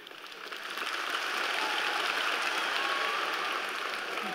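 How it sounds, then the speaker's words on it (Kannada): Audience of young people clapping, the applause swelling in over the first second into a dense, even roar that continues to the end, heard from a moderate distance. "ನೀವು ನೀವು ಹುಡ್ರು ಚಪ್ಪಾಳೆ ತಡ್ತಾ ಇದ್ದೀರಾ"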